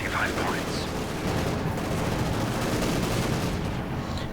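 Company of Heroes 2 battle gunfire rattles on continuously, a dense wash of shots and distant blasts from a T-70 tank clash with assault gunners at steady loudness throughout.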